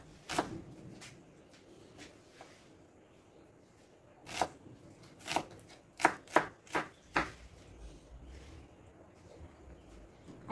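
A knife chops onion on a board, with a few scattered cuts followed by a quick burst of five or six sharp, close chops, set against a quiet background.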